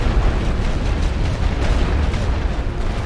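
Artillery shells burst during a World War I Western Front strategy battle, a dense, loud, continuous rumble of overlapping explosions with no clear pauses.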